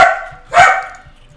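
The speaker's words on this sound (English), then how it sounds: "It's kind of ironic that I've got my dog barking in the background." A dog barks twice nearby, a sharp bark followed by a second louder one, with faint background noise and no talking.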